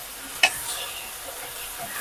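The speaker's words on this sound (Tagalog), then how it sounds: "At haluin ko lang ito." Sponge gourd (patola) sautés in a pan with oyster sauce, sesame oil and soy sauce as it is stirred. A single sharp utensil clink comes early, then a steady close sizzle continues.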